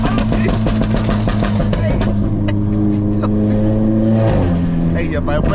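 Volkswagen Golf 7.5 R with a 400 hp tune crackles with rapid exhaust pops and bangs over a loud revving engine at low speed, with someone talking over it.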